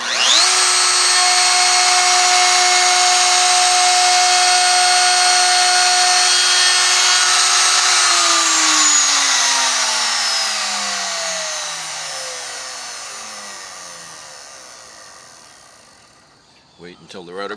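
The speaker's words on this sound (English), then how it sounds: "So I'm going to turn the router on. I'm going to pull it towards me until I reach this bottom parallel line." A plunge router whines at a loud steady high pitch while cutting a recess in wood, then is switched off and spins down with a falling tone, followed by a few handling clicks.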